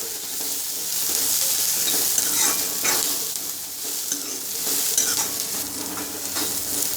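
Sliced onion sizzles and fries steadily in a pan over a high gas flame for a Malvani-style black pea curry, a bright continuous crackle broken by occasional stirring scrapes.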